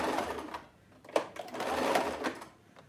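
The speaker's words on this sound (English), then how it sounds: "I'm about to start sewing, so it's probably gonna be loud." A sewing machine stitching upcycled denim shorts runs in short, fast bursts, rattling close and fairly loud, with brief pauses between runs and no talking.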